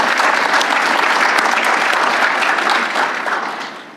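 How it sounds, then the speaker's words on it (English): An audience at a federal marketplace industry day opening session applauds the leadership team, with dense, loud clapping that holds steady and then fades toward the end. "I just have to give them a round of applause."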